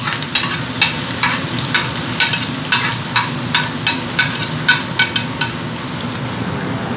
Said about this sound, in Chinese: 咁啊将啲葱蒜咧摆埋落去